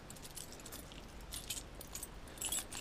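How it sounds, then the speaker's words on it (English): A bundle of keys for a 1987 Airstream Classic 345 vintage motorhome jangles close up, a continuous metallic rattle with bright clinking bursts and no talking. "Came with a bundle of keys and all the manuals."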